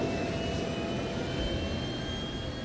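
Spacecraft engines roaring through a takeoff in Star Citizen, an Anvil Aerospace ship lifting off with landing gear raising; a loud, steady jet-like rumble with a high whine runs unbroken throughout, no voices.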